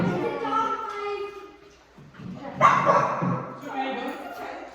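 A dog yips and barks in short excited bursts, close by, with a person talking over the noise.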